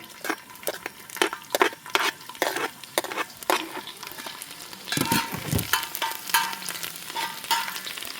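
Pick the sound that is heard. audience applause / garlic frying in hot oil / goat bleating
garlic frying in hot oil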